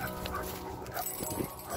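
A Labrador mix dog on an outdoor walk gives a brief, faint whimpering yip or two within a short moment.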